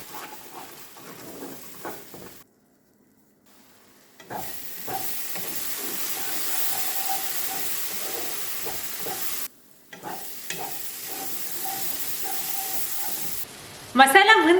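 Masala with salt, turmeric and chilli roasting in a pan for a parwal and potato curry, a moderate sizzle broken by short pauses, with a voice heard at the start and a sharp clatter at the end.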